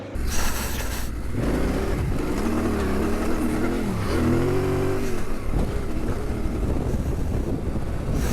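A Honda XR650L motorcycle revs hard while being ridden off-road, the single-cylinder engine rising and falling in pitch through gear changes beneath heavy wind buffeting on the microphone.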